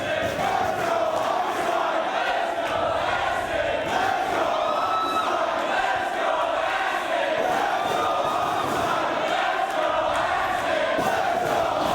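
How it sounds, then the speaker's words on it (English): A Ring of Honor wrestling crowd cheers and roars during a hard-hitting Homicide match with table spots. The noise is loud and continuous for the whole stretch, with scattered shouts and whoops rising out of the din. "This crowd loving every second of it."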